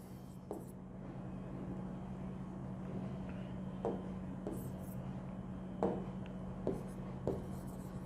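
A teacher writes notes during a chemistry lesson: soft, scratchy strokes and occasional taps on the writing surface, steady and close, over a constant low hum.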